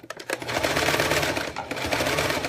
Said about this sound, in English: Now we're just gonna sew.